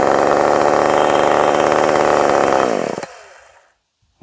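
A ported Husqvarna 450 Rancher chainsaw runs loud and close at steady high speed, then drops away and cuts off, leaving near silence before a brief sound at the end.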